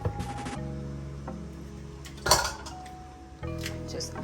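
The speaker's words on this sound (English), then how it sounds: "Just add my coconut milk to my pot as well" Coconut milk goes into a cooking pot of stewed pork and gungo peas, with a sharp metallic clink of can or utensil against the pot. Steady stovetop hum and low kitchen clatter run around it, up close.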